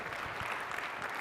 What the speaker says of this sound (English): Give yourself a round of applause one more time.